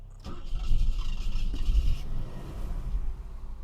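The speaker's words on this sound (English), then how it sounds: "Switch it over, put her in P, and then start her up." 1979 Mercedes-Benz W126 500 SE V8 cranking briefly, then catching and settling into a low, rumbling idle, close up with no talk.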